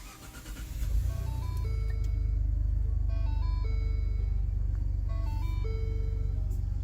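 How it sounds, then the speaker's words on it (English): A Lincoln Navigator engine starts and settles into a steady low idle, close and continuous, with a series of electronic chimes sounding over it. "So I'm in my Lincoln Navigator."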